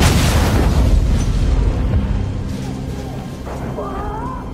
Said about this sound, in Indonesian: Tiba-tiba truk itu meledak dan menewaskan keduanya